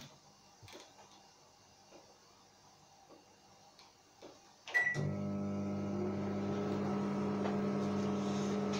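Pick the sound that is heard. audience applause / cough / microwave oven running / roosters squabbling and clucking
microwave oven running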